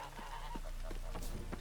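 Geese in The Witcher 3 honk several times in quick, uneven calls over a low steady game ambience, fairly faint and with no voices over them.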